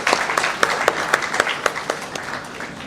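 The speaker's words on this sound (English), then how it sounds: "May we please have another round of applause for Ms. Jayashree" Audience applause at the opening of a hospitality industry event, with a steady wash of many hands clapping and a few sharper individual claps standing out, sustained and moderately loud throughout.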